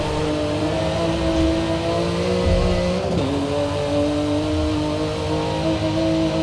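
A race car engine in the Forza Motorsport 7 racing game drones and revs continuously, its pitch rising and dipping briefly near the middle as the car shifts or brakes, then holding steady at high revs.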